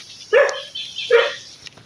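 A dog gives two sharp barks a moment apart at an abandoned ghost town, fairly close and clear against a quiet background.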